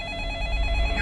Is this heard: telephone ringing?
yes